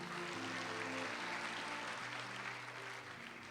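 Church congregation applauding during a sermon, a steady wash of clapping heard faintly at a distance with a sustained musical chord underneath.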